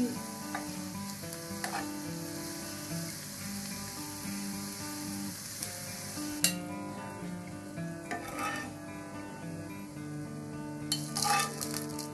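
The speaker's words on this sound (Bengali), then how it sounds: "আমি অল্প একটু পেঁয়াজের বেরেস্তা করে নিচ্ছি" Sliced onions frying in hot oil into crisp beresta for chicken pulao, a loud, continuous sizzle broken by occasional stirring scrapes and light clinks of utensils against the pan.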